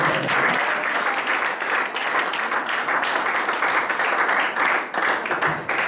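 A church congregation claps and applauds in dense, steady applause that continues for several seconds, loud and close, with no talking over it.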